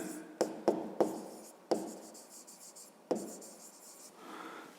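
Close scratching of a pen writing a maths difference on paper for a fifth-grade exercise: a quick cluster of taps and strokes, then two more spaced strokes fading to a quiet rub, with no speech.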